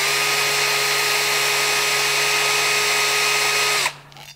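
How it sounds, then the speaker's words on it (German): Power drill spinning a grinding disc on a wheel hub stud, a steady high whine with tonal hum held for nearly four seconds before it abruptly cuts off, close and loud. "verwenden wir für den Antrieb unserer Schleifkörper eine Bohrmaschine mit einer maximalen Drehzahl von 1000 Umdrehungen"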